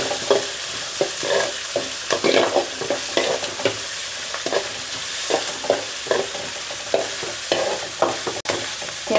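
Onions and green chillies fry in a pan for puffed rice upma, with a steady sizzle broken by repeated scraping stirs of a spoon, close and fairly loud, no talking.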